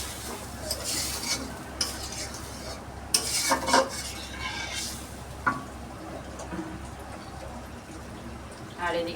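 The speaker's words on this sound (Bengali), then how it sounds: "আর এদিকে তো বড়াগুলো ভাজা হচ্ছে।" Boras (fritters) fry in a pan with a steady sizzle, broken by clinking utensil and pot sounds and a few sharp scrapes, moderately close and fairly quiet.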